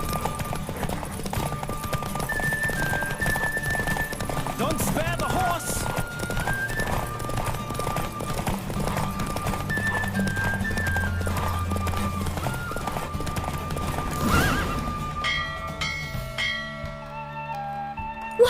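Hooves pound in a fast steady gallop during a horse race in The Witcher video game, with occasional neighs, backed by music and some speech, fading near the end.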